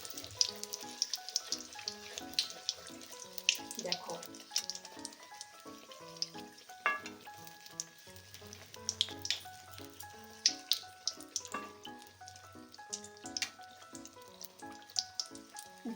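Beguni, eggplant fritters, fry in hot oil as it is spooned over them, giving a close, crackling sizzle with frequent sharp pops and irregular spatter, steady and unbroken by speech.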